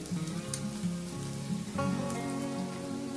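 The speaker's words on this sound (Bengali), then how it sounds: "এখানে আমি মাছের ডিমটাকে মশলার সাথে ভালো করে কষিয়ে নেব।" Fish roe cooking down with spices in a hot pan gives a steady, close sizzle and crackle, with a faint tonal hum running underneath.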